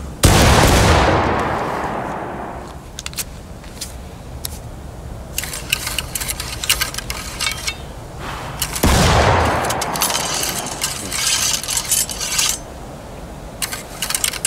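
Two loud musket volleys crash out in the Civil War game War of Rights, several seconds apart. Each blast tails off into scattered clicks and rattling of reloading weapons.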